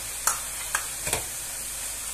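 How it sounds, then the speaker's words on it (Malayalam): Cabbage thoran with about one and a half cups of grated coconut stirred in a pan, a few soft scraping clicks of the spoon spaced apart over a low, steady sizzle, no voices. "നന്നായിട്ടൊന്ന് മിക്സ് ചെയ്ത് കൊടുക്കാം."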